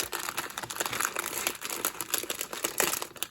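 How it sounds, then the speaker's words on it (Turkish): A thick plastic package of tomato-flavoured instant noodles is torn open with loud, close crinkling and crackling that runs unbroken for a few seconds, with no voice. "İlk önce Berona'nın domatesli noodle paketini açıyorum"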